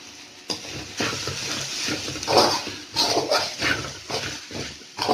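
Spicy chicken roll filling is stirred in a pan, sizzling and frying while a spoon scrapes and clatters against the metal in uneven bursts, heard up close.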